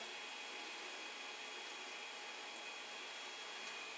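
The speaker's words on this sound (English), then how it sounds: "this is a part fan blowing on the part for PLA" A 3D printer's part cooling fan blows on a PLA print with a faint, steady airy whoosh, constant and unbroken throughout.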